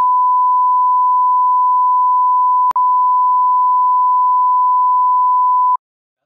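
A long steady censor beep tone, loud and continuous for nearly six seconds with a tiny break partway through, then it cuts off.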